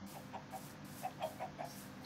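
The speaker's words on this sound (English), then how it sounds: "Chicken in the water." Soft, scattered clucks from a chicken in the video game Minecraft, faint and spaced irregularly over a quiet outdoor background with no talking.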